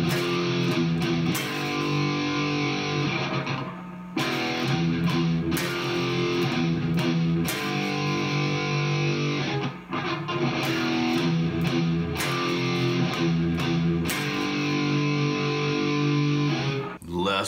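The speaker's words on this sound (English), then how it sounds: "Now for the next set of power chords." Distorted electric guitar chugs through a metal riff of palm-muted power chords, playing steadily and loudly throughout with brief gaps between phrases.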